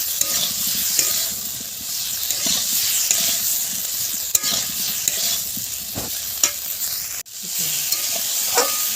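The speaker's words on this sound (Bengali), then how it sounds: "এবারে ভেজে রাখা আলু ফুলকপিগুলো দিয়ে ভালো করে কষিয়ে নেব।" Potatoes and cauliflower sizzle loudly in hot spiced oil, with a continuous frying hiss and a spatula scraping and stirring through the pan at close range.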